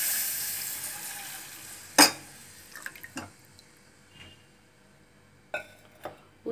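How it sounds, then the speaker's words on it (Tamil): Milk poured into a hot pan for a white pasta sauce and stirred: a soft sizzle that fades over the first seconds, one sharp clatter, then scattered spoon scrapes and taps against the pan. "ஊற்றிட்டு கொஞ்சம் நேரம் நல்லா கலக்கிட்டே இருக்கணும். கட்டி பிடிக்காமல் கலக்கணும்."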